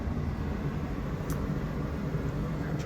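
A house furnace running in a mechanical room beside the water heater and return air duct, a steady low broadband hum with faint clicks, continuous and without talk.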